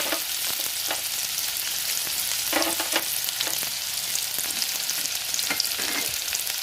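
Sliced spring onion fries in vegetable oil in a kadai with a constant close hiss of sizzling, broken by several sharper crackles and stirring scrapes spread unevenly throughout, with no voices.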